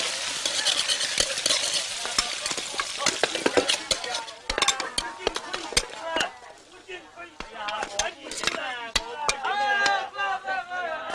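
A wok stir-fry in a village kitchen, with sizzling oil, rapid metal scraping and clanking of a spatula against the pan, plus occasional dish clatter, close and busy while voices talk intermittently.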